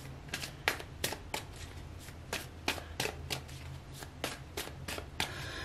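Tarot cards being shuffled in a steady series of crisp riffling bursts, roughly a dozen quick papery slaps close to the microphone over a faint low hum, with no talking.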